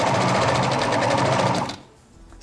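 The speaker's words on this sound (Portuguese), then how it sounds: "passa a costura reta bem na beirinha" A sewing machine runs a straight stitch along the edge of gathered elastic, a fast, loud, steady mechanical whir that stops abruptly near the end, followed by a brief pause and a soft bump.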